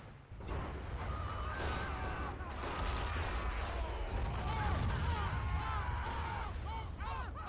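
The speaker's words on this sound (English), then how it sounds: "does it seem like that mortar is going crazy with the gunfire?" Mortar blasts and gunfire in the WW1 video game All Quiet on the Western Front, a continuous dense battle din of booms and shots, with voices shouting over it.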